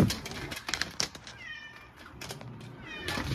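A pet cat meows several times in short, close, fairly loud calls, with quiet pauses between them.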